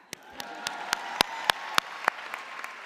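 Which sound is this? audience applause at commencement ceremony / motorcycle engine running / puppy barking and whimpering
audience applause at commencement ceremony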